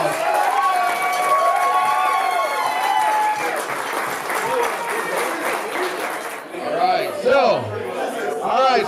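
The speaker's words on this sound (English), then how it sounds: "So let's give her a round of applause" Crowd at a bar beard contest applauding and cheering loudly, with whoops and chatter through the clapping; the noise thins midway and voices talk over the tail.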